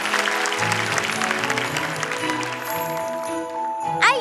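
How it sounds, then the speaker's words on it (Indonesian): On a televised talent show stage, the audience claps for a young magician while music with sustained tones plays, the clapping moderate and partly blended beneath the tune. "Beri tepuk tangan untuk teman aku."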